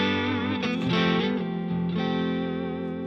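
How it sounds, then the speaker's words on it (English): A dry electric guitar rings through a Marshall Super Lead amp set fairly clean with reverb, a sustained chord struck, swelling with a few extra strums, then left to ring and slowly fade. "it's just a Marshall Super Lead essentially, with reverb in the back, all set well cleanish"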